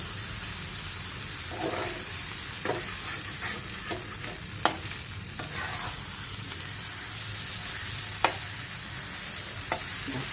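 Close, steady sizzling of bread pakora frying in a ceramic-coated pan, broken by a few scraping clicks of a utensil moving through it.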